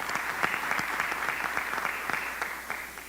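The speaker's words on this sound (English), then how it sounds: "Please give him a round of applause." Applause from a conference audience at the iHub launch, a steady wash of clapping with a few sharper individual claps standing out, held at moderate, fairly distant level for about three seconds.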